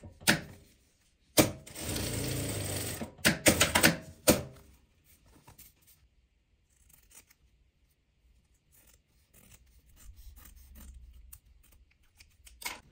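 Sewing machine stitching fabric scraps together, a loud steady mechanical whir running for about two seconds, then several short bursts of stitching before it falls quiet apart from faint handling noises.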